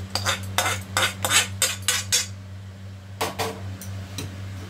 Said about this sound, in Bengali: এটাকে আমি একটা বোলের মধ্যে ঢেলে নিচ্ছি।